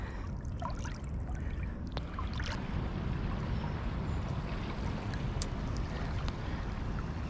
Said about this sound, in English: Can you hear that water?